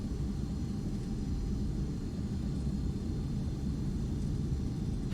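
Phenom business jet taxiing down a long runway in the X-Plane flight simulator, a steady low engine rumble and whine that holds constant and close throughout with no talk.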